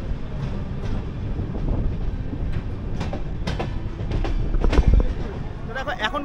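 A passenger train on a Kolkata-to-Daringbadi run rolls into Bhadrak station with a steady low rumble and repeated wheel clacks, heard close from on board for about six seconds. Faint voices are present.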